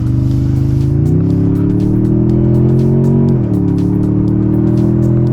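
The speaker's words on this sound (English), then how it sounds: "Giving it the gas on the way over here, it still sounds really good." A 2024 Toyota Tundra TRD Pro hybrid drones loudly and steadily through its exhaust, with the engine note rising in two steps as it is given gas, heard close and without talk.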